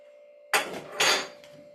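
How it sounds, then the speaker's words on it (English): A spoon scrapes and knocks around inside a cooking pot in a few quick strokes, close and fairly loud over a steady background hum. "We will stir it well."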